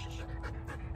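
A dog panting loudly right beside the microphone, a quick run of rapid, breathy pants over about a second.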